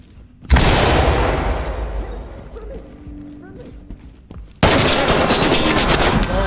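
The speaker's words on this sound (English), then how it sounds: "I'm throwing a flashbang." A flashbang grenade detonates in the tactical shooter Ready or Not with a sudden loud broadband blast that decays over a few seconds, followed by a second burst of harsh noise, with talk mixed in.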